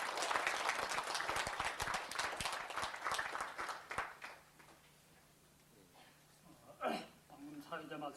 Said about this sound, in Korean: 역시 박수로 환영해 주시기 바랍니다.